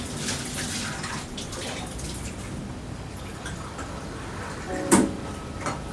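Hot water runs from a tap in a continuous hiss and splash, with a sudden metallic clank near the end; no one speaks.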